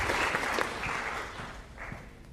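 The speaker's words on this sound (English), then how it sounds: "A round of applause for our two feistier players." An audience in a lecture hall applauds with a dense burst of clapping that is loud at first, then thins and fades over a couple of seconds.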